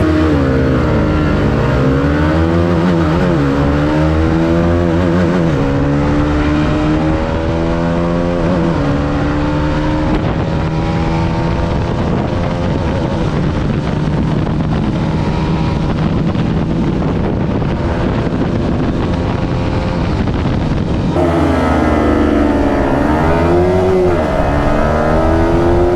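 Karizma XMR 210, R15M and RS200 motorcycles accelerate hard in a performance run, engines rising and shifting through gears under loud, constant wind buffeting close to the microphone.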